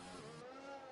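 A race car in the F1 2020 racing game at the Brazil circuit roars past with a high, wavering engine whine that shifts pitch, loud and brief.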